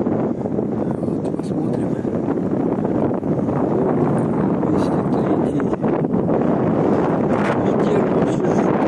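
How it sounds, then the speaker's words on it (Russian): Strong gusty wind roars steadily across a microphone at a dam beach, a constant loud rush throughout while a person speaks briefly over it. "Ветер вообще жуткий."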